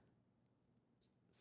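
Scissors snip through a knitted swatch along a steek in a quiet room: a faint click, then a sharp, close crisp cut at the end.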